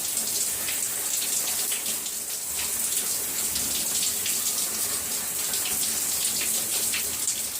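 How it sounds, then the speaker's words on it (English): Steady running water from a tap pours over hair being rinsed during a wash day, a continuous close splashing hiss with small fluctuations and no talking. "I'm just putting my hair under the water"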